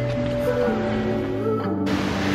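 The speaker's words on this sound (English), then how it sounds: "I can hear a waterfall." A waterfall in native forest roars as a steady, broadband rushing wash of water, continuous and fairly close throughout the short stretch.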